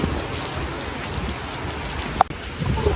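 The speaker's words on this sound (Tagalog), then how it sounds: "Lakas ng ulan." Heavy rain in Boracay, dense and steady hiss of downpour on surfaces close by, continuous throughout with a single sharp knock partway through.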